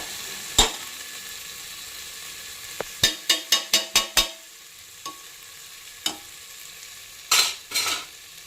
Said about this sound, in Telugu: ఈ అల్లం వెల్లుల్లి పేస్ట్ వేసినప్పుడు కలుపుకుంటూ ఉండాలి,